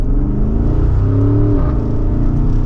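A 2023 Porsche Cayenne Turbo SUV with sport exhaust revs up steadily under acceleration, a deep, fairly restrained exhaust drone rising in pitch, with a brief shift-like dip near the end.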